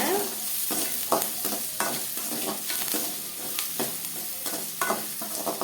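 Sliced large onions sautéing in a pan for a bitter gourd kootu, a continuous close sizzle with repeated stirring scrapes at a loose, steady rhythm; no talking.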